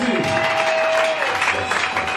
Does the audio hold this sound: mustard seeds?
no